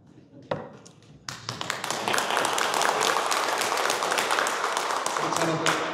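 Scattered claps at a tea-talk gathering of Buddhist professors quickly swell into full audience applause that holds steady and fairly close, with faint talk beneath it.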